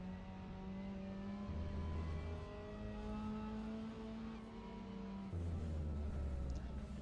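On-board engine note of a Mazda MX-5 Cup race car at Portimao, a steady droning buzz that rises through the gears, with a gear change a few seconds in and another near the end, close and alone.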